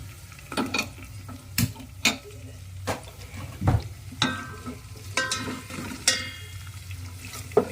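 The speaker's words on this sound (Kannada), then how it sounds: "ಫ್ರೈ ಮಾಡ್ತಾ ಹೋಗೋಣ" Chopped onion fries in a pan for mushroom biryani while being stirred, with a low sizzle under sharp, irregular clacks of a spatula against the pan.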